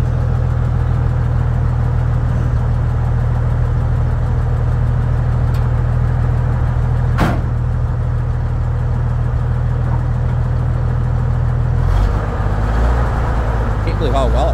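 An abandoned 5-ton military 6x6 truck's diesel engine idles with a deep, steady, loud rumble that runs throughout, broken by a couple of sharp clanks and a brief shift in tone near the end.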